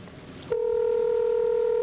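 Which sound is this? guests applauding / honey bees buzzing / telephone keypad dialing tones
telephone keypad dialing tones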